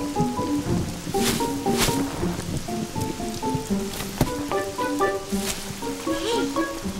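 Steady rain pours throughout a Strawberry Shortcake cartoon scene, a dense hiss with scattered drip accents, while a soft musical score plays underneath.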